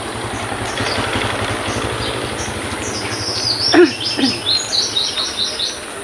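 Birds chirp among trees behind a church, with bright, quick calls that grow busier toward the end over a low, steady engine idle nearby; no one speaks.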